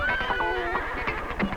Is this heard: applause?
no